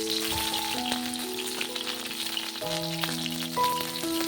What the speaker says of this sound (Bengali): এবার ওই তেলেই আমি দিয়ে দেব ফুলকপি।